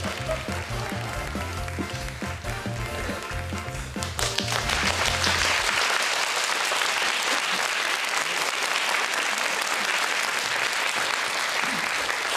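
Studio audience applause on a Japanese variety talk show, starting after a stretch of music and then filling the room as a dense, steady burst of clapping that holds to the end.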